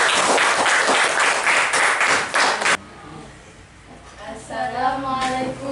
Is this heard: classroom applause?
yes